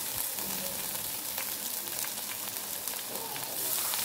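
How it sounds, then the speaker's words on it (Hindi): Potatoes frying in a pan give a steady, dense sizzle with crackling spatter, close and continuous throughout. "3 से 4 मिनट हो चुके हैं मुझे इसको फ्राई करते हुए आलूओं को"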